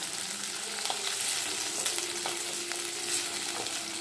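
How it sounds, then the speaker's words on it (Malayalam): Potatoes sizzle in hot oil in a pan, a steady dense crackle with scattered pops running throughout, close and fairly loud, with no voices. "എണ്ണ ചൂടായതും അത് ഉരുളക്കിഴങ്ങ് ഇടുക"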